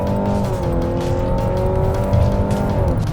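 A 2025 Mazda CX-70's four-cylinder engine drones steadily up close, a buzzy note holding a constant pitch with some tire and road noise underneath, no one speaking.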